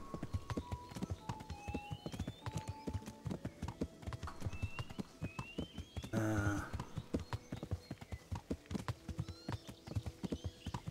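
A horse ridden in the medieval video game Kingdom Come Deliverance, its hooves clip-clopping in a steady galloping rhythm, with a brief snort or whinny partway through.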